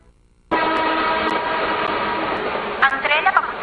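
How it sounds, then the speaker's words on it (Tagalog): A train bound for Benshan pulls into a station with a sustained loud horn-like tone and rolling rumble, joined near the end by brief chirping sounds. "Ang tren na papunta sa Benshan ay malapit na tumigil sa ika-4 na istasyon."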